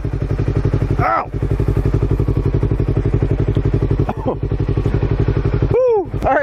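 A motorcycle engine runs loudly and steadily up close with a rapid pulsing chug, spinning corn on a drill, while a voice briefly cries out over it a few times.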